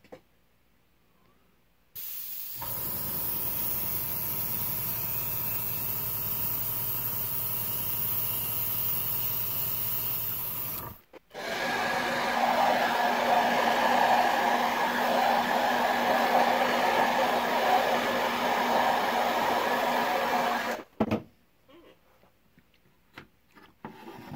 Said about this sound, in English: I got the airbrush all ready to go.